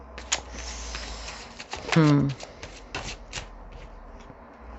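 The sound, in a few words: shuffling tarot cards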